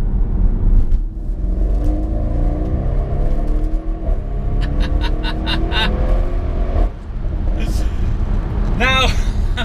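An Audi RS6 Performance with an upgraded exhaust revs loudly and close, its deep engine roar rising and falling in several throttle blips and accelerations with pops near the end, heard from inside the car.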